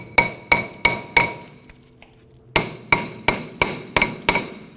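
Hammer blows ringing on a rusted rear brake drum of a 2008-2011 Ford Focus, four sharp metallic strikes, a short pause, then six more in steady rhythm, loud and close with no talking.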